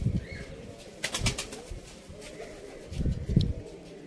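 Pigeons kept in Sialkot, including teddy pigeons, coo softly in a few short, low bursts close by, separated by quiet gaps.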